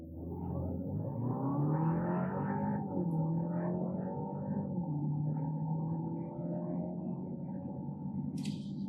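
A 2024 Audi A5 Sportback S line quattro with a 204-horsepower engine accelerates hard from a launch-control start, its engine note rising steadily through the gears, heard from inside the car as a continuous, moderately loud drone.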